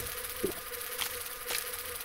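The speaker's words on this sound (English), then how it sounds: "Always a good first room, the bees." Buzzing of bees in The Binding of Isaac, a steady insect drone with a few brief louder swells, alone with no talk.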